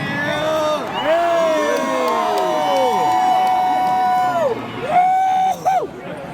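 Crowd cheering and whooping, many overlapping rising and falling voiced whoops and shouts forming a loud, continuous wash of excited vocal noise.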